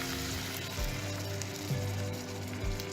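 Eggs poured over broccoli, spinach and tomato in a frying pan for a frittata set off a steady, close sizzle with a low, continuous hum beneath, and no one speaks.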